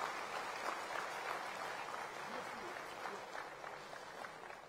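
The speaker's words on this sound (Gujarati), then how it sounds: "શ્રેયાંશભાઈ માટે ખૂબ જોરદાર તાળીઓ હોવી જોઈએ" Audience applause at the Samanvay 2015 Avinash Vyas Award Ceremony, a steady, fairly distant wash of clapping that continues evenly throughout.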